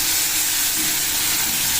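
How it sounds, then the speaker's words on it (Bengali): Fish fry in hot oil in a kadai, a dense steady sizzle heard close and loud throughout, with no voices. "কড়াইতে তেল দিয়ে মাছগুলো আগে ভেজে নিই"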